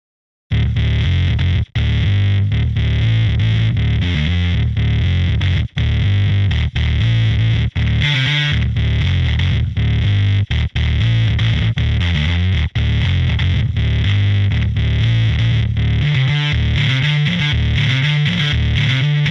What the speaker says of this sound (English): I'm going to turn on a distortion plugin and play a little bit with this bass.